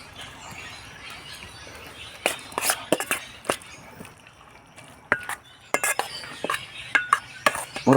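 A spoon stirs and scrapes through banana heart and bamboo shoot mixture in a bowl, making irregular clinks and clatters while a voice talks.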